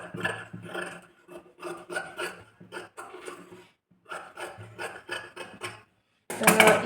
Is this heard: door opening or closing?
no